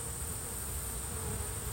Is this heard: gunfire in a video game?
no